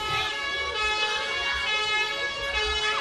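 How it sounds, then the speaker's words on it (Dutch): A fire engine arrives at a school with its siren wailing, a loud harmonic tone sweeping up and down continuously throughout, with low engine rumble underneath. "Daar komt de brandweerauto aan."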